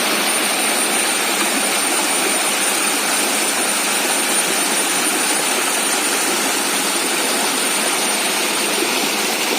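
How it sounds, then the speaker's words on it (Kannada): Rushing water roars steadily and loudly, a dense unbroken noise of a fast-flowing farm-side stream close by. "ಎಷ್ಟು ರಭಸದಲ್ಲಿ ಬರ್ತಾ ಉಂಟು ನೀರು."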